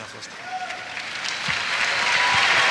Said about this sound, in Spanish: Démosle palmas al Señor de la gloria.